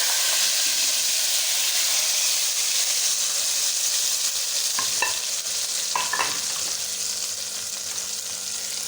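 Hot tempering with green chilies poured over kadhi: a steady, loud, close sizzle and hiss runs throughout, with a couple of brief clinks near the end and no speech.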